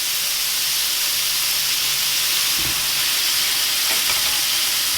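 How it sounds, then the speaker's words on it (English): Bacon frying hard in a hot pan makes a loud, dense, continuous sizzle and hiss, with a couple of brief clunks partway through. "that bacon's burning nicely"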